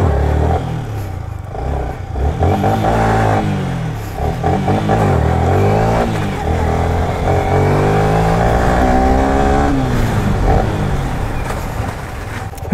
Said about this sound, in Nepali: डिपी राइडरको बाइक रहेछ, हेर्न सक्नुहुन्छ पुरै मस्त है।